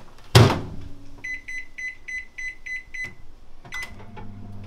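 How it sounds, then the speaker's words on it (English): Microwave oven being started to cook rice: a loud door thunk, a quick run of about seven evenly spaced keypad beeps, then another beep and the low hum of the oven starting up. "Right, to the microwave. I think I'll go the 7 minute option"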